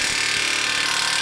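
An impact wrench with a 36mm socket removing a front wheel hub on an E30 makes a loud, continuous buzzing hammer that holds steady for just over a second.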